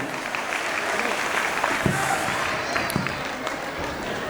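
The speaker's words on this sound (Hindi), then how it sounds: "एक बार और जोरदार तालियां बजाइए" Enthusiastic applause from an audience at a school annual function, continuous clapping throughout with a few sharper claps standing out.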